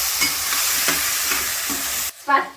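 Onions and tomatoes with turmeric stirred together in a hot pan, loud continuous sizzling with several rhythmic scraping strokes, then a sudden drop and one final short clatter.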